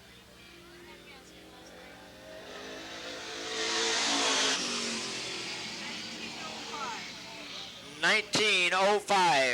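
A race car laps Eugene Speedway, its engine a broad roar that swells and builds to a peak before easing away, with a trackside announcer talking over the noise and then close up at the end.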